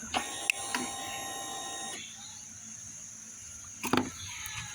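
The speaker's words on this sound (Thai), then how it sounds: "เปิดสวิตช์กุญแจ แล้วก็จะให้ฟังเสียงปั๊มติ๊กนะครับ" A motorcycle fuel pump with a repaired control box primes after the key is switched on: a brief whirring buzz for about two seconds that cuts off, framed by sharp switch clicks nearby.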